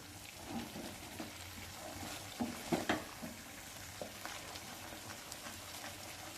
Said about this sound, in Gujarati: હાઈ ફ્લેમ પર આપણે એને સ્ટર કરતા રહેવાનું છે